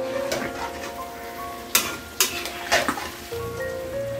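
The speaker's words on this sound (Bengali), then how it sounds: "এখন এটাকে শুধু এভাবে একটু ভেজে যাব" Olives frying in hot oil in a pan while being made into a sweet, sour and spicy pickle, a steady close sizzle broken by a few sharp scraping stirs of a utensil against the pan.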